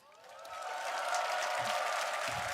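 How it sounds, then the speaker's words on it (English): Arena audience applauding at the Dota 2 TI12 finals, clapping swelling in quickly then holding as a loud, dense, sustained wash with a few low murmurs underneath. "They were going to give you a big round of applause there"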